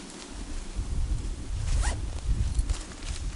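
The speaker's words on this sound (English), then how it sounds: "Then you can zip it up even further if you so choose" A DD Hammocks Jura 2 sleeping bag is zipped up inside a hammock, a brief rising zip stroke near the middle amid soft fabric rustling and low handling noise.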